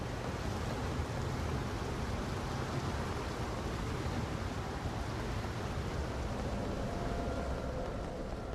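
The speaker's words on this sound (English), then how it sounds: "The only sound is the rain." Steady rain in the video game Nier Reincarnation, a continuous broad hiss with no breaks, even and moderately loud throughout, with no voices.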